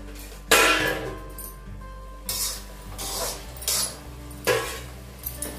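A spoon stirs food in a cooking pot, making four or five separate metallic clinks and scrapes against the sides with short quiet gaps between them, close by and without talk.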